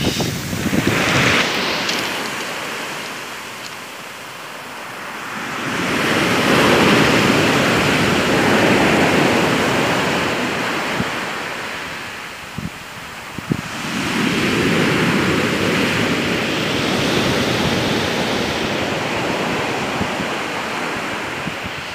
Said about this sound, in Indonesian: suaranya ombaknya sangat besar, teman-teman.